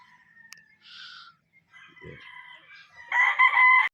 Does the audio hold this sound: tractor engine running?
no